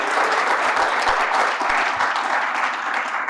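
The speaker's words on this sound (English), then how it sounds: "why don't I just go ahead and ask for a round of applause welcoming these guys virtually." Conference audience breaking into applause, a dense, continuous wash of many hands clapping at once, loud and sustained throughout with no talk over it.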